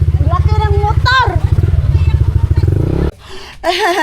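A large motorcycle engine thrums close and steady, its low rhythmic pulse cutting out briefly near the end, while people talk excitedly over it.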